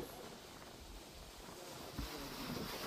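Water gushing from a 2-inch pipe fed by a solar-powered 5 hp Texmo bore pump, a steady, broad rushing hiss with a slight surge near the end.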